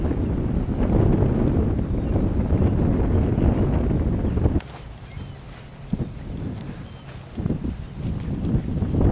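Breezy wind buffets the microphone outdoors at the Castillo de San Marcos fort, a loud steady rumble for the first half, then dropping to quieter, gusty bursts with occasional low thumps.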